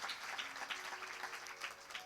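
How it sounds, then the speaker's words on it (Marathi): Audience at a devotional kirtan discourse claps together, a steady, fairly faint wash of applause from a gathered crowd with no voices on top. "सगळ्यांसाठी एकदा टाळ्या वाजवा."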